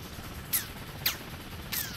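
Three sharp, spaced impacts of enemy aircraft gunfire in a flight combat game, crackling over a steady engine drone, fairly quiet and without talk.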